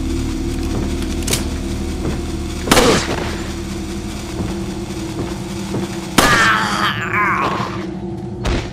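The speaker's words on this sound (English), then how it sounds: "You can shoot the stick of dynamite with it" In Resident Evil 4, a dynamite stick is shot and explodes: two sharp, booming blasts about three seconds apart stand out over steady game background noise.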